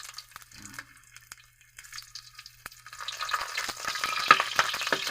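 Ginger frying in heated cooking oil begins quietly with a few faint clicks and stirs, then builds into a steady, bright sizzle that grows louder toward the end.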